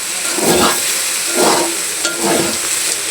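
Sliced bitter gourd and potato fry in a pan with a steady sizzling hiss. A spatula stirs them in about three slow, scraping sweeps, loud and close, with no voices.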